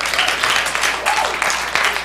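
An audience claps at a Harvard conference in 2012, a dense and loud patter of many hands that holds steady throughout with no voices over it.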